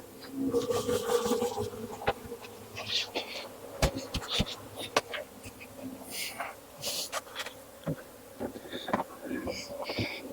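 Honeybees are shaken down into a nuc box, giving a soft, wavering buzz with intermittent knocks and rubbing thuds of the box, fairly quiet and close.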